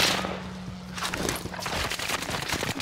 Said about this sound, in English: I'm getting shot bro. From a different team.